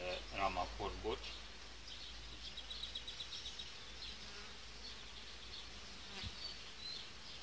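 Honeybees drone in a steady, close buzz around a hive frame being worked for queen cell rearing, with a voice talking quietly at the start and faint handling noises.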